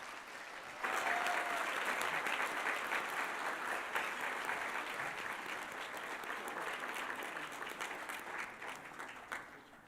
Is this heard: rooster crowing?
no